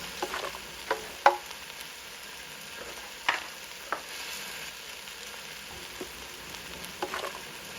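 Dried chilies fry in a pan with a soft, steady sizzle and occasional light stirring clicks and pops, fairly quiet and close, with no talking.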